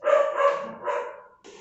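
Outdoor dogs giving a quick run of three or four sharp barks in an uneven rhythm, moderately close and loud, with no voices over them.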